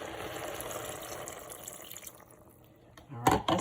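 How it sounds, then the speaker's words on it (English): A cup of water pours into a pot of rutabagas, a steady liquid rush that fades and then ends with a few louder splashes and clinks in a kitchen. "So now we're going to add a cup of water."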